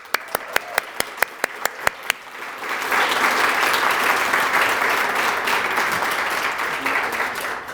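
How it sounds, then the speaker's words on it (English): Audience applause at a psychiatry and behavioral sciences graduation and awards ceremony: a few sharp individual claps at first, then swelling into sustained, dense clapping from a large crowd that holds steady before easing slightly. "So I want to give her a great round of well-deserved applause."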